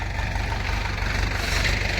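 A tractor engine runs steadily nearby, giving a constant low idling chug with an even rhythmic pulse and no talk over it.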